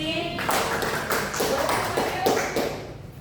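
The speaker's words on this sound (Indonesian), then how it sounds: "beri tepuk tangan lagi" A classroom group applauds after student presentations in a history lesson, a few loose bursts of clapping and tapping close by with a voice speaking over them.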